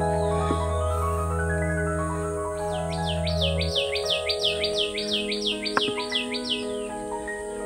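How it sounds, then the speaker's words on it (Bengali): Forest birds call near the Parasnath hill trail in Jharkhand, with soft scattered chirps at first, then a loud rhythmic series of repeated rising whistles close by, over a steady background hum. "কি সুন্দর পাখির ডাক"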